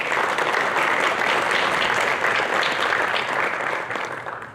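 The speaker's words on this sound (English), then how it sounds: "Please give our sponsors a warm round of applause." Audience applause for event sponsors at a chamber of commerce gathering, a dense, steady clapping that stays loud throughout and tapers slightly at the end, with no voices over it.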